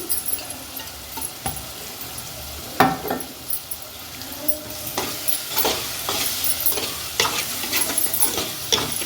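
Squid curry fries with turmeric and chili in a pan, a loud, steady sizzle broken by frequent scraping stirs and knocks of the spoon, close and continuous throughout.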